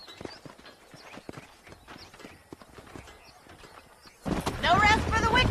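Horse hooves clip-clop in the Red Dead Redemption video game, a steady run of light, fairly close hoofbeats that grows louder and busier near the end, where a voice joins in over the hoof sounds.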